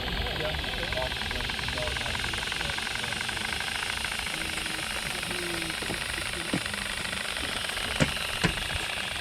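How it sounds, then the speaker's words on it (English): A model stationary steam plant with a Stewart S50 engine runs at a members' day of a model engineering centre, a dense, continuous mechanical chuffing and hiss with voices talking over it and a few sharp clicks. "So it's a little stationary steam plant. It's got a Stewart S50 and a little Bassett Loke engine on it"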